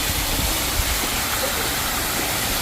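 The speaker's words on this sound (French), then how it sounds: "J'ai l'impression qu'il y a de l'eau qui coule." Water runs and flows nearby, a dense, unbroken rushing hiss that stays loud and even throughout the short stretch.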